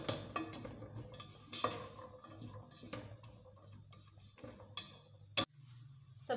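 Chopped carrots, bell pepper and boiled peas fry in a pan while a spoon scrapes and clinks against the metal, giving irregular taps over a low, steady sizzle, close and without talk.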